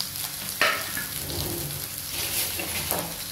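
Sliced small onions sizzle steadily in hot oil in a pan for a ridge gourd milk curry, a continuous close frying hiss with a sharp burst as they drop in, no talking.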